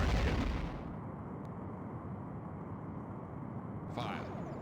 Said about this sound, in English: The enemy ship has sustained major damage.